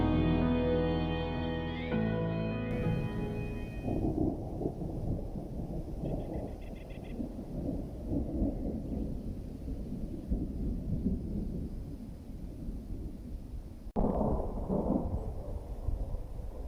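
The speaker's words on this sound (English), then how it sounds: "it's starting to storm again outside" A thunderstorm rolls over a van at a mountain campsite near Manitou Springs, Colorado, with rain hissing steadily and deep thunder rumbling. A sharper crack comes late, and a brief tonal sound is heard at the start.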